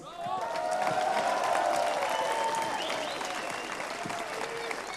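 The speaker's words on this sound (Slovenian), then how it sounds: "En aplavz." An indoor audience at a reception breaks into sustained, steady applause lasting several seconds, loud and close, tapering slightly toward the end with a faint voice or two underneath.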